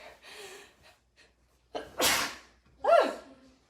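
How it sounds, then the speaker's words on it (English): A single loud sneeze bursts out close by, preceded by a few sharp gasping breaths and short sniffs, with no talk. "Oh, I think I'm gonna sneeze."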